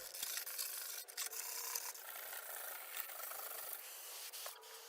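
A PC case front is hand-sanded with steady rasping strokes, a close, continuous scratchy rubbing that runs without pause throughout and carries no voices.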